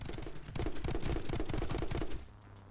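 Rapid, continuous gunfire in the video game My Friend Pedro, a dense stream of shots for about two seconds that cuts off abruptly into quieter background.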